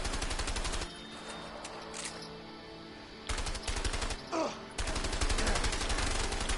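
Gunfire in the video game A Way Out, dense sustained automatic bursts that drop away for a few seconds and then resume, loud and continuous with brief pauses.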